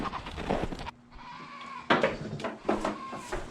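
A goat bleats several times on a homestead, wavering cries close by, separated by short pauses with some shuffling in between.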